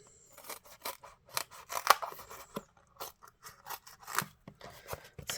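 Scissors snip through paper in a quick series of short, crisp cuts at close range, each a sharp rasping crunch with brief pauses between, during papercraft card-making with no talking.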